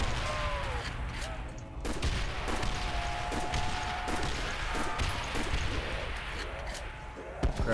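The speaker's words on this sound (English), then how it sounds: "Spray this freaking hand cannon" Repeated hand cannon shots in Call of Duty Zombies on the Pirate Ship custom map, a dense string of loud blasts and crashes with a voice talking over the gunfire.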